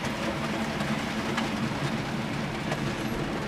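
Model railway locomotive running steadily along its track, a continuous even rumble and rolling clatter at moderate level, with no voices over it.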